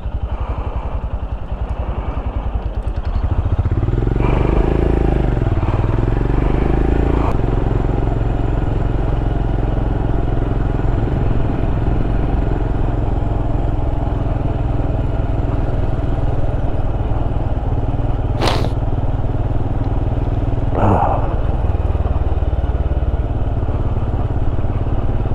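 A Royal Enfield Scram 411 motorcycle being ridden along back lanes in Warwickshire, its engine a loud, steady, close rumble that picks up after a few seconds and runs continuously with a couple of brief clicks.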